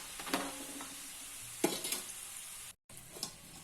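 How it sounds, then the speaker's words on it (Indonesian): Kue telur gabus fries in oil over low heat, a soft steady sizzle punctuated by a few louder stirring scrapes and clinks, close by and fairly quiet. "Ini kita goreng sampai berwarna coklat."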